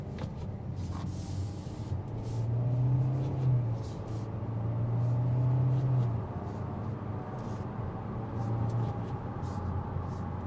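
A 2025 Kia Soul with an IVT in sport mode, heard from inside the cabin, accelerates through simulated gear steps, its engine drone rising and falling in stepped pulls over steady road rumble.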